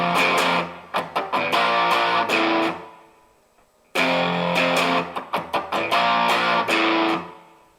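Electric guitar with distortion strums its bottom three strings open in sharp repeated bursts, a loud chugging rhythm in two phrases separated by a brief pause, with no talking.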